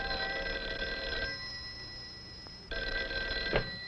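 A telephone bell rings in an AT&T telephone switching film, two loud metallic bursts separated by a quiet gap, with a brief knock near the end and no talking.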